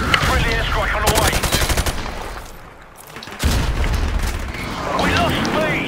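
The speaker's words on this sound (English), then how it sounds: "Friendly airstrike on the way!" Rapid automatic gunfire and heavy airstrike booms from Modern Warfare Remastered domination on Shipment, loud and close, with a brief lull before another blast and more shooting, game voices calling out over it.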